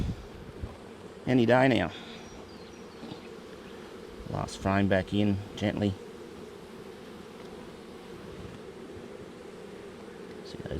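Honey bees buzz in a steady, dense drone around an open hive, close and constant, while someone speaks briefly over the hum.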